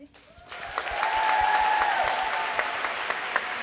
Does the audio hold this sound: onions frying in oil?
no